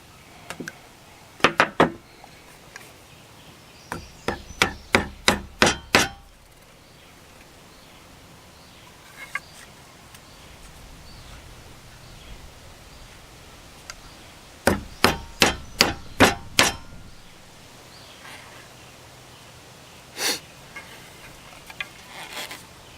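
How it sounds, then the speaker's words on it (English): A hammer whacks a wooden wedge on a workbench in two quick bursts of about six sharp, ringing blows each, with a few lone knocks between them over a quiet background. "give it a couple whacks here on the bench"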